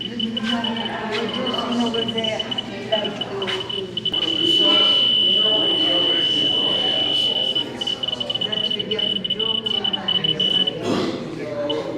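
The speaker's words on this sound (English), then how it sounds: "It's beeping. It's because it's still close to this. That's uranium ore." A Geiger counter held close to a chunk of uranium ore at a rock shop, emitting a steady stream of rapid beeps and a sustained high tone beneath continuous nearby talk.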